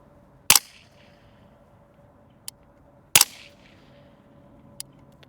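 Two loud, sharp rifle shots a few seconds apart while sighting in a Vector Optics Continental 3-18x scope, each followed by a short decay, with fainter distant impact ticks after each shot against a quiet outdoor background.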